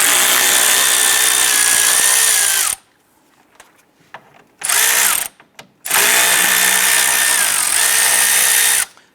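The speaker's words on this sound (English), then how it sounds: "On the top of the cooling fan, there are 2 10mm bolts. We want to go ahead, loosen, and remove those." A power tool runs in loud, sustained bursts with a whining pitch that shifts as it loosens and removes 10mm bolts on the radiator cooling fan of a 2008-2013 Nissan Rogue. There are two long runs separated by a short burst and brief quiet gaps.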